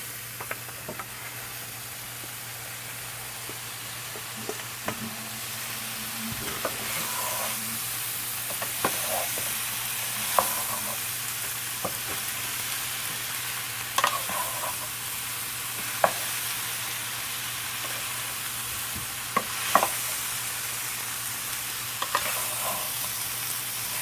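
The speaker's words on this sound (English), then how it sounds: "So just mix it really well, mix the curry well into it." Mango pieces being stirred into a simmering curry in a pan for mango talkari, with a constant soft sizzle and hiss under scattered spoon taps and scrapes against the pan, close and steady, without speech.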